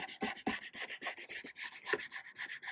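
Old veneer on a vintage telephone table is scraped off in quick, rhythmic rasping strokes, about a dozen close, dry scrapes in steady succession.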